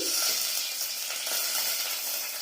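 Bay leaf hits hot ghee in a pan for polao, giving a steady, soft, close sizzle and frying hiss throughout with no talk.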